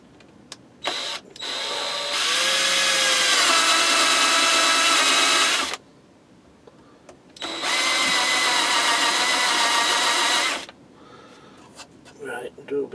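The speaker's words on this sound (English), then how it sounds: "so we'll get these drilled out" A power drill bores holes into wood in two long whining bursts of several seconds each, close and loud. A short pause separates them, and brief clicks and handling noises sit at either end.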